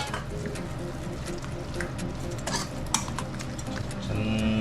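Soya kabab mixture is mixed and stirred by hand in a bowl, giving close, continuous squelching and soft scraping with small clinks, and a faint tone enters near the end.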